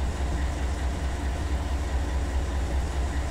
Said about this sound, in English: here comes the Richmond Autorack train